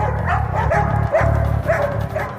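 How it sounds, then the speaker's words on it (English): Police dogs barking during a raid on a suspect, rapid repeated loud barks and yips close by in a continuous tense burst. "Even the police dogs are picking up on the tension."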